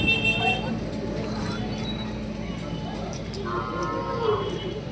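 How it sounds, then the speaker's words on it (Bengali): Cattle at a rural market low and moo amid the crowd's hubbub, with people talking throughout and a brief vehicle toot in the background. "সব সাইজের গরু আছে হাটে অনেক।"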